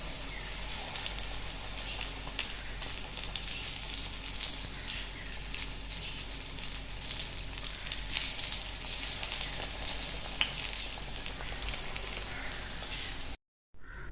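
Banana fritters (pazhampori) fry in hot oil with a constant, even crackling sizzle. It stays steady and close for the whole stretch, cutting out only for a moment near the end, with no talking.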